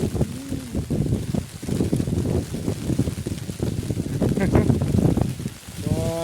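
Heavy, steady rain on a farm with wind buffeting the microphone, close and loud, while people talk over it.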